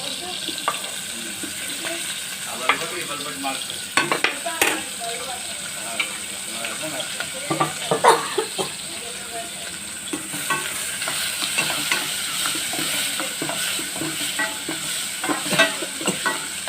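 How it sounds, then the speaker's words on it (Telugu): Green chillies frying in hot oil crackle in a steady close sizzle, with repeated ladle scrapes and taps against the pan and a faint background hum. "నూనె కాగిందండి. ఇదిగో నేను పచ్చిమిరపకాయలు వేస్తున్నాను ముందు"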